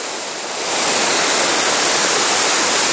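Spread Eagle Falls, a wide waterfall in Shillong, roars in a steady, dense rush of falling water that swells slightly at first and then holds loud and constant, with no voices.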